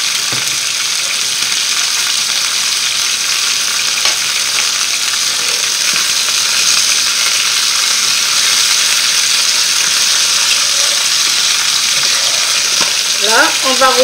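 Chicken pieces frying in a pan for a coconut curry, a loud continuous sizzle close by, with a few clinks and scrapes of stirring near the end.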